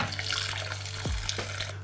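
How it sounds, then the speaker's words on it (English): Water poured from above onto quick oats in a Pyrex dish, a steady splashing, trickling stream heard up close for the whole moment, with no talking. "I'm gonna go ahead and add some water to that."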